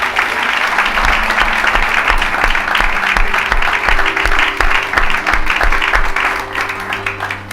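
A church congregation applauds a gospel talent contest during a Sunday worship service, steady dense clapping filling the room throughout with a few faint voices mixed in.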